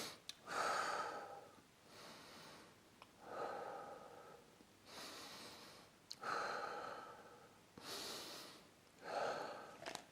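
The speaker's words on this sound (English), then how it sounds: "nice steady breathing throughout the hold" Steady, rhythmic breathing during an isometric hold, with four or five clear breath cycles of audible inhales and exhales, close and moderately loud, with no talking.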